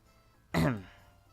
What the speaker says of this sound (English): coughs, but he doesn't say anything